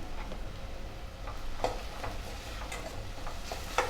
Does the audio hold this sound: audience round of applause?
no